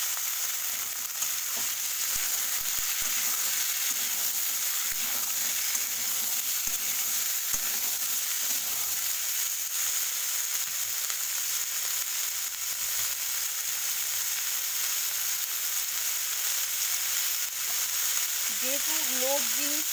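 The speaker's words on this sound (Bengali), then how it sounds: "আমি একটু ভেজেই নিই, বেশ কিছুক্ষণ ধরে কষিয়ে তারপর আমি পাতা অ্যাড করি" Malabar spinach stems frying in a pan, a steady broadband sizzle filling the whole stretch with occasional soft stirring scrapes, close and even throughout.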